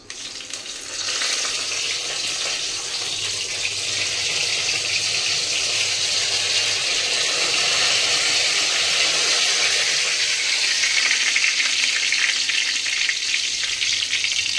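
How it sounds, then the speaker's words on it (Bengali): Whole garam masala, bay leaf, dried red chilli and cumin seeds hit hot oil left from frying paneer, giving a loud, continuous, close crackling sizzle that holds steady throughout with no voices. "এবার ওই তেলের মধ্যেই দিয়ে দেব ফোড়নগুলো গোটা গরম মশলা তেজপাতা শুকনো লঙ্কা সাদা জিরে"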